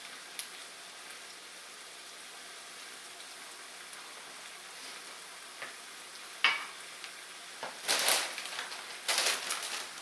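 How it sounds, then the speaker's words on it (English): Half a stick of butter hits a pan of asparagus with a steady low sizzle, then louder crackling bursts flare near the end, with no one speaking. "So I got like half a stick of butter I'm going to throw in here at this point."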